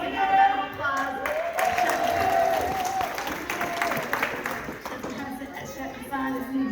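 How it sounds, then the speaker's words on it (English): An audience at a political pledge event claps steadily for several seconds, with cheering and crowd chatter mixed in throughout. "Please give her a round of applause."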